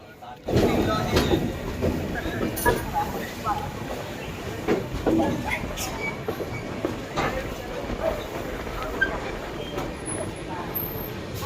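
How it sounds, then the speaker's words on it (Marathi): A passenger train pulls out of Ratnagiri station with a steady rumble and rattle of wheels and carriages, heard from inside a coach with a voice talking over the noise. "तर फायनली मित्रांनो ट्रेन सुटलेली आहे रत्नागिरीवरून"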